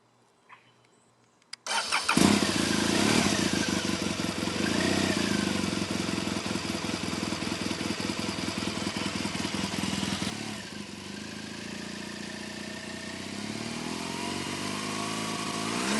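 After a moment of quiet, a 2016 BMW R1200 GSA motorcycle cranks and fires up with a loud start, then settles into a steady, throbbing idle that drops slightly in level partway through.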